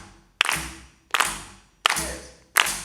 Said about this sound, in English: I want you guys to start clapping with me.